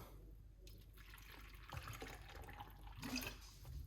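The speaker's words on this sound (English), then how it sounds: "So we're gonna put some water inside of it now." Water splashes and trickles into a container while making celery juice, a steady liquid pour with a brighter gush near the end, close by and with no talking.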